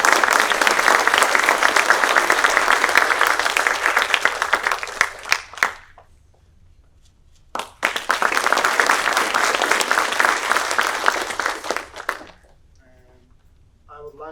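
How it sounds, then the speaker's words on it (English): An audience at a college engineering faculty and staff meeting applauding a staff award winner: two long, loud waves of dense clapping, each about five seconds, separated by a brief quiet gap, then the room settles. "please give another round of applause for all the award winners"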